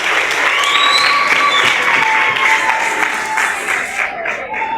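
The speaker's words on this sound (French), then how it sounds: "Et je vous demande tous de pouvoir nous acclamer en raison de cette invitation." A graduation ceremony crowd at ISTM Uvira claps loudly and steadily, with some cheering mixed in, before the applause thins out near the end.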